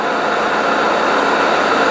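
Fiat Ducato van diesel engine idling right after an oil change, a loud, steady, unbroken drone close by with no speech.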